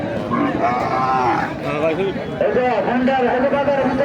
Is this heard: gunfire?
no